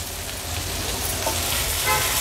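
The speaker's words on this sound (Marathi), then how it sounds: "तेलावर छान हे बोंबील परतून घेऊया।" Dried Bombay duck fish sautéing in oil on a hot tawa over a high flame, with a steady close sizzle and frying crackle throughout and no talking.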